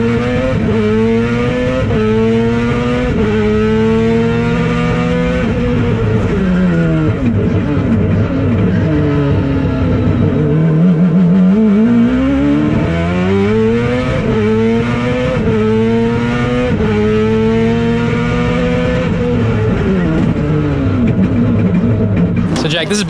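Street-legal four-rotor Mazda RX-7 built in the style of the 787B, revving to 11,000 RPM: a loud, piercing rotary scream that climbs and dips in repeated sweeps, dropping low midway before surging back up, close and continuous.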